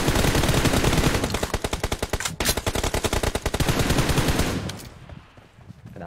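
Rapid automatic gunfire in a team shooter game, a long loud burst of evenly spaced shots that cuts off abruptly into a quieter tail.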